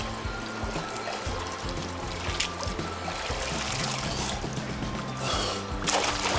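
Water trickles and flows steadily, with a continuous close wash of splashing that swells slightly near the end. No one speaks over it.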